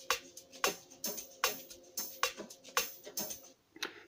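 Hi-hat beat programmed in FL Studio Mobile, a crisp, close pattern of bright ticking hits in a steady, slightly syncopated rhythm with no other instruments or voices.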